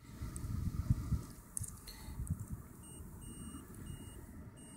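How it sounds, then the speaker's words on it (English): A multimeter continuity tester beeping while checking a 3 amp fuse from a plug on an electric bike charger, a faint steady electronic tone held over low handling noise and background hum. "Yeah, that's beeping. So the fuse in the plug, it's a 3 amp fuse, is okay."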